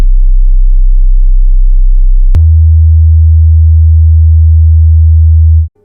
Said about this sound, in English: This is what the hum sounds like.